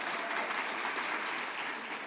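An audience at a community college district convocation applauds, a steady dense wash of clapping heard from a distance, soft and even throughout.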